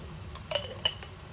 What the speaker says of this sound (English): we're actually going to ladle the salsa into the mason jar